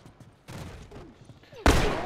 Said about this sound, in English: Yeah, I'm getting shot at right now.